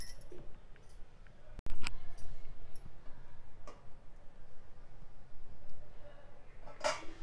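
Flattened rice (poha) is moved from an iron pan into a serving dish, giving a few sparse, light clinks and scrapes of a utensil against metal over a quiet background, with a sharper knock midway and a brief rattle near the end.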